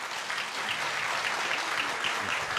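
Steady audience applause in a hall at a boxing Hall of Fame event in Canastota, dense clapping holding at an even level throughout with no pauses.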